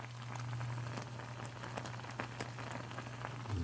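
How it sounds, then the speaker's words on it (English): Steady crackling and popping from homemade apple syrup in a hot pan, dense fizzing with sharp snaps scattered throughout, close and continuous, with a low hum underneath. "Sizzling and snapping."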